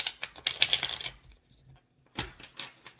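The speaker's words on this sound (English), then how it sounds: "That was an interesting shuffle." Quick bursts of tarot cards being shuffled, a rapid riffling clatter up close, then a pause and a second shorter riffle.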